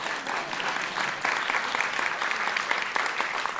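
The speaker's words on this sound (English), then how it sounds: "You can clap for that one." An audience at an Indigenous spoken word and song performance breaks into warm, sustained applause, a dense and even clatter of many hands that holds steady throughout.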